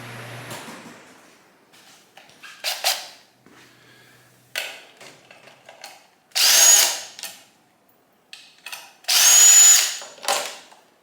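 Power drill working out a snapped-off bolt from an intake part of a 1978 Kawasaki KZ1000 Z1R motorcycle under restoration, heard as two loud sustained bursts of about a second each, with shorter clanks and tool handling around them.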